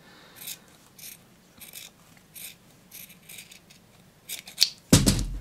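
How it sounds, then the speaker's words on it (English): Scissors snip through fabric seam allowances while a bow tie is sewn, a series of small close crisp cuts spaced about a second apart, ending in a louder clatter. "I'm just going to just cut this down a bit as well,"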